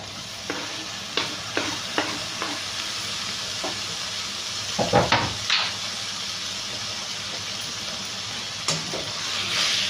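Tomatoes frying in a pan for an egg and tomato curry, a steady soft sizzle with several sharp stirring clatters and scrapes scattered through, a louder burst of spoon-on-pan knocks near the middle, no voices.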